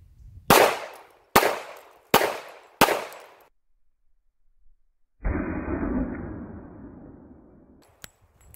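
An M1911A1 pistol made in 1918 and rebuilt with a 1942 slide fires four loud, sharp shots at a steady pace. A noisy rustling stretch follows, then a single faint click near the end.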